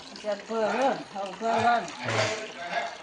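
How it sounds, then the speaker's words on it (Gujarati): Tap water runs steadily into bottles at a farm home, a constant rushing hiss that continues under nearby conversation. "તો પાણી આવ્યું, પાણી ભરાય"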